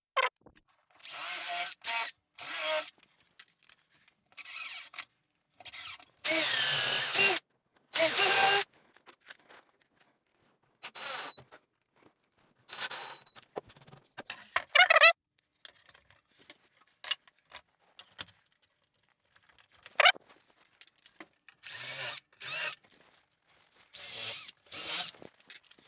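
A power drill countersinks and drives screws into wood for a beginner ladder shelf. Short, close whirring bursts of varying length start and stop irregularly, separated by quiet gaps, with no talking.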